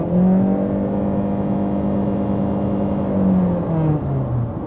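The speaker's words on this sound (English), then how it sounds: "Let's get it on the road to see how the acceleration is like. Right, sport mode," A 2026 Chery Tiggo 4 Hybrid accelerates hard in sport mode on the road, a loud steady cabin whir and engine drone with a tone that rises and then falls slightly, with road noise underneath.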